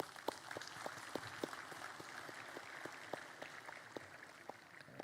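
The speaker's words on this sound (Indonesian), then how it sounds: "tepuk tangan." Applause from an audience at an Indonesian speaking event, scattered individual claps sounding over a steady wash of crowd clapping, moderately distant and fairly quiet.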